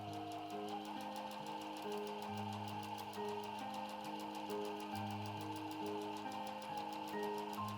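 Sewing machine stitching along the edge of the quilted batting and lining of a fabric bag, a close, rapid, even mechanical chatter with a low motor hum, running steadily with no talking.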